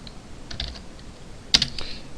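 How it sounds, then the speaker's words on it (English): Quiet typing on a computer keyboard, a few scattered soft key taps followed by a brief cluster of sharper clicks, close and alone without talk. "Let's go ahead and type email"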